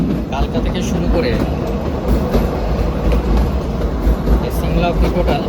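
The Shivalik Express, a narrow-gauge train running from Kalka to Shimla, rumbles along with steady low wheel noise and clattering, heard from on board while people talk.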